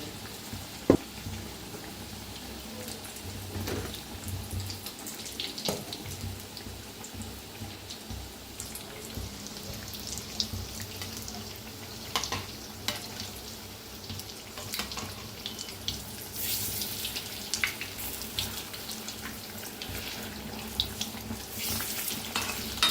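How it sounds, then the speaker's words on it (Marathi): Bread pakoda fries in hot oil, giving a soft, continuous bubbling sizzle with scattered pops and crackles, quiet and close, with no talk. "छान असे क्रिस्पी तळायला लागलेले आहेत मस्त"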